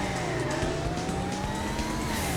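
A Porsche 911 engine in Sega's Scud Race arcade racer revs steadily with a rising tone, loud and continuous over a brief stretch, with no talk.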